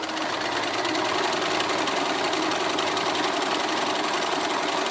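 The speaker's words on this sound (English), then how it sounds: "I'm just letting the machine pull the fabrics through and guiding them in the right direction" A sewing machine stitches a quarter inch seam, pulling the fabric through in one steady, close, continuous mechanical hum for the whole stretch, with no talking.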